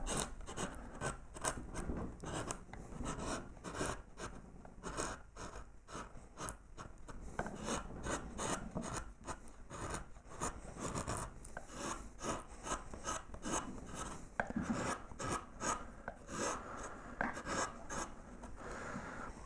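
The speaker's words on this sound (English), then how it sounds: "now swap to our flat gouge, and we're going to clean up this bit of wood here" A flat gouge carving and cleaning up a piece of wood on a sample board, producing steady, dense rasping scrapes in quick repeated strokes, close and continuous with no talking.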